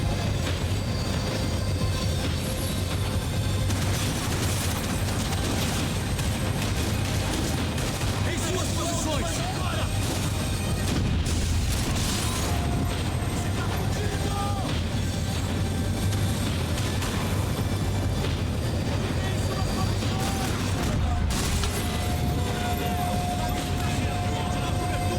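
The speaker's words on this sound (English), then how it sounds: "Of course there'd be a tram full of goons trying to derail me." Tram full of goons in Max Payne 3 rumbling along the rails with clattering wheels and bursts of gunfire, a dense, continuous mechanical din with sharp metallic squeals and shots scattered throughout.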